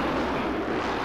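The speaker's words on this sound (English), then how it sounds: "Ah, airstrike!" Aircraft roaring overhead during an airstrike in the battle royale game Call of Duty: Warzone, a loud, steady broadband engine rumble filling the whole moment without letup.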